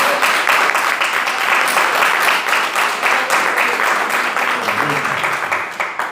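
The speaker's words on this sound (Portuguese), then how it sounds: "Aplauda o Senhor Jesus" A church congregation claps steadily and loudly through the whole stretch, a dense even wash of applause, with faint voices underneath near the end.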